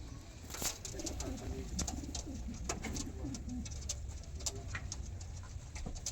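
Pigeons coo in low, throaty bursts, several birds overlapping close by, with some fluttering and faint tapping in the background.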